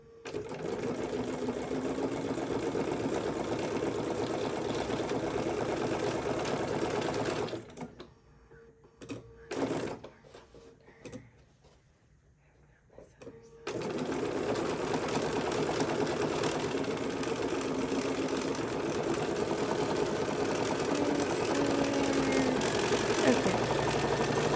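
Sewing machine stitching a quilt label, running in a loud steady whir at close range, stopping briefly midway with a few clicks and handling sounds before starting up again and running on.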